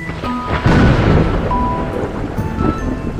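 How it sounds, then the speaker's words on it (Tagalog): Strong wind gusting with heavy rain at a forest campsite, a loud, rumbling, continuous wash of noise that swells and stays dense throughout. "biglang lumakas ang hangin at nagbabadya ang malakas na ulan"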